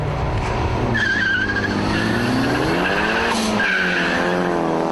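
A turbocharged drag racing car with a Volvo rear end launches off the line, its engine roaring loudly and rising in pitch while tyres squeal throughout.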